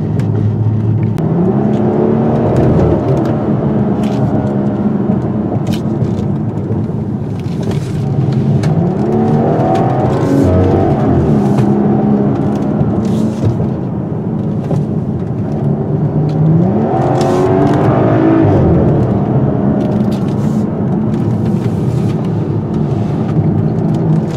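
Engine of a 2017/2018 BMW X4 M40i driven through tight corners, rising and falling in repeated waves of revving over steady road noise, heard continuously from inside without speech.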